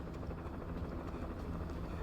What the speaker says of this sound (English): Man, they got the helicopters in there as well.